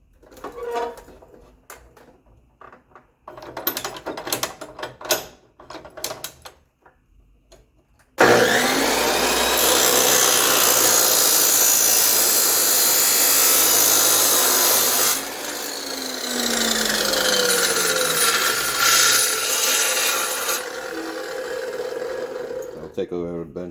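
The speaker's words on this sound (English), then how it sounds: "Take over the bench and grind that." A bench grinder works a metal kickstand from a Baja Warrior minibike, a loud continuous harsh whine and rasp that shifts pitch as pressure changes, after a stretch of someone talking over quieter shop sounds.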